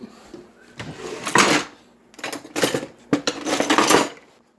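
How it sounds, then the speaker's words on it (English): Metal cutlery clatters and jingles as a spoon is pulled from a kitchen drawer, several bright rattling bursts in quick succession, close and fairly loud. "I'm going to get a spoon so we can stir it."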